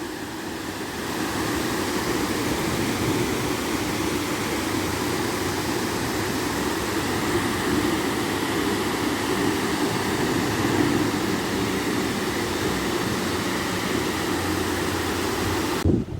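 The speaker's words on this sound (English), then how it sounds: "And a closer look at the waterfall." A waterfall on the Water of Leith in Edinburgh roars as a steady, broad rush of falling water, continuous and fairly loud throughout with no talking.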